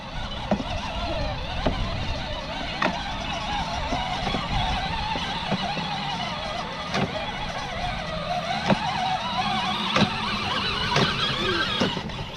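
Continuous broadband grinding rumble with repeated sharp clicks and squeaks at a steady rhythm, close and fairly loud, from a kids' ride-on Jeep toy car with a broken-sounding gear near the passenger-side wheel.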